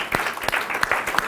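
Short burst of applause from a small audience at a live talk, sparse individual claps standing out clearly rather than blending into a dense wash.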